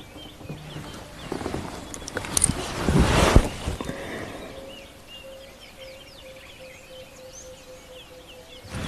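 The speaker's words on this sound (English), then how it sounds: "Imagine with their hearing, how they can hear these birds." Birds calling and chirping on a live African safari near resting male lions, faint scattered chirps over open outdoor ambience with a louder rumbling disturbance early on.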